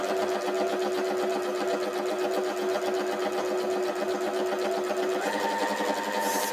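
A sewing machine stitches a quarter-inch seam along the edge of a pot holder, running in a steady, fast mechanical whir that continues the whole time and picks up slightly toward the end.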